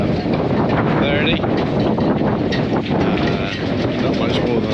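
Steady wind gusting hard against the microphone ahead of Hurricane Hilary, a loud continuous roar that swells and dips in strength throughout.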